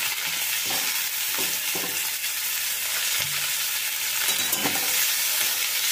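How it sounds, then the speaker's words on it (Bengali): Slit green chilies, chopped tomato and grated ginger fry over a low flame for arhar dal with cauliflower, a continuous hissing sizzle with soft, occasional stirring thumps close by, no voices. "একটুখানি নাড়াচাড়া করে এগুলোকে ভেজে নেব।"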